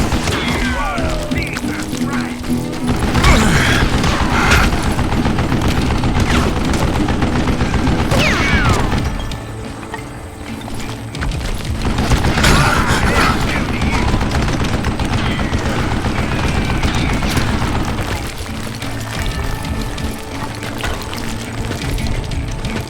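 Mounted gun firing in the video game Call of Juarez: Gunslinger, loud sustained bursts of rapid shots with booming impacts, swelling and easing over about twenty seconds while someone talks over them.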